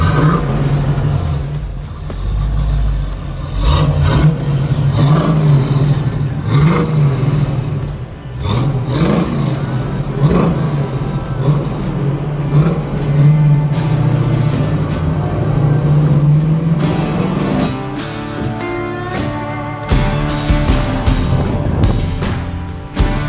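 A 1971 Chevrolet Nova SS with a 375HP engine and 4-speed rumbles after firing up, a loud close idle with repeated revving swells throughout.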